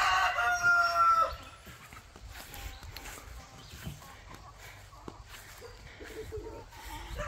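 Chickens, including large lavender birds, cluck and bustle in a coop with sand, with a rooster crowing loudly at the start and scattered clucks and scratching after, close by.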